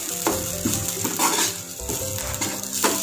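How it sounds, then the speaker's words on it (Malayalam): Spices, shallots and curry leaves being stirred in a hot oiled pan for spinach sambar, a continuous close sizzle broken by a few spoon scrapes and clinks against the pan. "എന്നിട്ട് ഇതിനെ നന്നായിട്ട് ഇളക്കുക."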